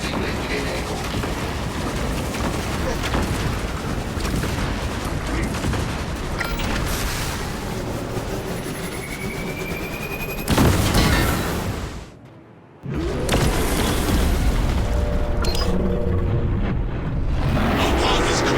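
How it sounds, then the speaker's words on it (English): Defensive cannons fire in a Warhammer-style video game, a dense barrage of booms and blasts rolling continuously, with a brief drop to near quiet before the loud battle noise resumes. "We can fire the defensive cannons."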